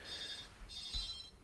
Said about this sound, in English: Someone's calling the hotel phone.